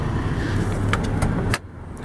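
A 2010 Volvo XC60 with a 3.2 liter inline six idling smoothly, a steady low hum heard close with the hood open, a few faint clicks over it and the engine note dropping off near the end.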